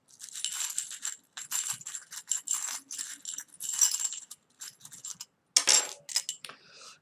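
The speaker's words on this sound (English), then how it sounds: "I'm going to give them a bit of a shuffle and to take out a couple of charms" Small metal charms shuffled together in a bowl, giving bursts of light clinking and jangling in several separate handfuls, close and clear, with no talk.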